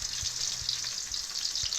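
Tawilis fish frying in a pan, a dense, continuous crackling sizzle with a few soft low thumps scattered through, close and steady, no talking.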